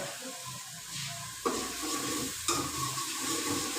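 Spice masala frying in ghee for a Punjabi potato and wadi dish, a continuous moderate sizzle broken by two sharp scraping stirs, no voices.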